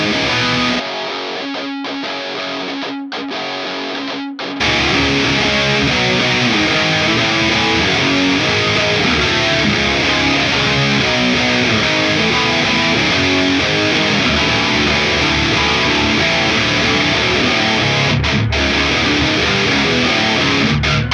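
Loud distorted electric guitar played through a Dual Rectifier-style amp tone, a few clean-sounding stabs first, then a sustained wall of heavy, saturated chords.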